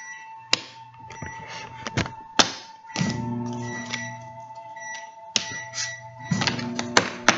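An oracle card deck being shuffled by hand on a table, with sharp taps, thuds and riffling bursts coming in irregular clusters close to the microphone.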